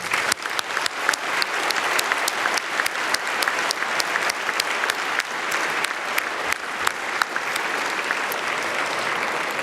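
Audience applause for the organisers at the opening ceremony of a FerMUN 2025 Model UN conference: dense, steady clapping from a large crowd, sustained and even throughout with no voices on top.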